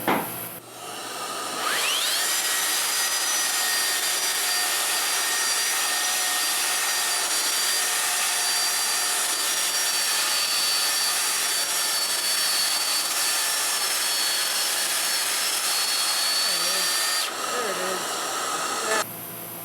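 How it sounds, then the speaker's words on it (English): A Milwaukee M18 cordless belt sander with 40 grit abrades pre-finished plywood veneer, spinning up after a second and holding a loud, steady whirring grind for about fifteen seconds before winding down. "Let's see how quickly 40 grit will burn through this pre-finished plywood veneer."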